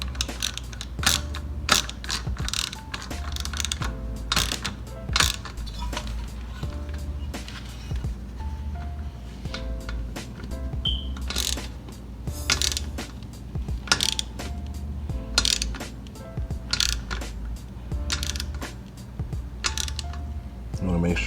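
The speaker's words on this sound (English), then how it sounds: "So I have here my 10mm. Just to make sure she's tight" A 10mm wrench snugs the carburetor onto a motorized bicycle engine, producing close, light metallic clicks and clinks in irregular short runs over a low steady background.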